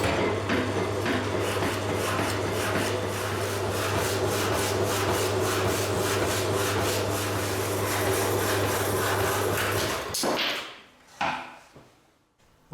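A metal block is cut on a lathe under tailstock power feed, a loud, continuous grinding rasp over a low motor hum with a fast, even pulsing rhythm. It stops after about ten seconds, leaving a couple of faint clunks.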